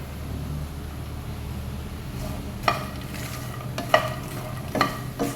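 Makhana (fox nuts) roast in a bowlful of hot ghee, a quiet steady sizzle with a few sharp scraping stirs and clinks of a spoon against the pan in the second half.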